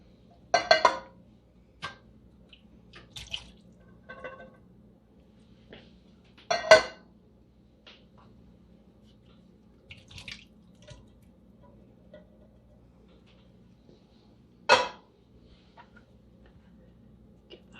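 A spoon works through a creamy chicken chow mein casserole mixture of drained canned chicken, giving sparse, scattered clinks and soft wet scrapes with long quiet gaps between them.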